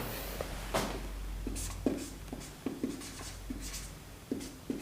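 Pen or chalk writing out definitions of time instant and time interval, a series of short scratchy strokes and taps in an uneven rhythm, close and fairly quiet, with no talking.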